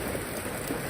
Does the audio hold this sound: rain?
yes